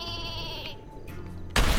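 Cartoonish sheep bleating in Worms W.M.D, a drawn-out wavering bleat up close, followed by a sudden loud burst of noise at the end.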